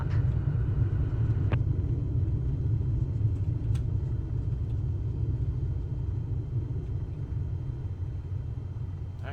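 Airplane braking and rolling to a stop on a runway in Microsoft Flight Simulator 2024, a steady loud low rumble of wheels and engine that holds throughout and eases off only slightly toward the end.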